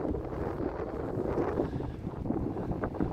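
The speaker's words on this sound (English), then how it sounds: "if only it wasn't windy." Gusty wind buffets the microphone at North Shields Fish Quay, a steady low rumbling roar with no other clear sounds throughout.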